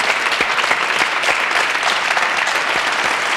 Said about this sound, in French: On applaudit Ronald Reagan.